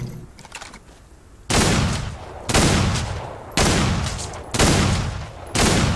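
Heavy gunfire from the Old West shooter game Outlaws of the Old West: five loud, sustained bursts of rapid shots, each about a second long, separated by short lulls, with no talk over them.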